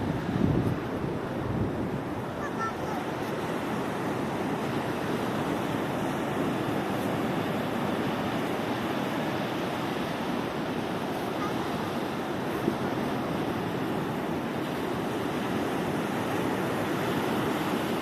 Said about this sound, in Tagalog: Yan na yung wave!